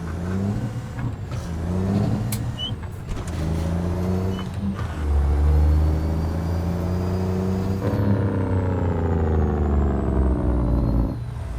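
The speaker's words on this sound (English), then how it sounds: "14-liter Detroit diesel Z mod" A 14-liter Detroit diesel truck engine mod in American Truck Simulator: a deep, loud diesel rumble that revs and climbs through gear changes, with a steady droning tone under it, heard alone.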